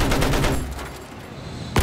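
Gunfire in Battlefield 1, a rapid burst of loud shots in the first half-second followed by a fading tail, then another sharp crack at the very end.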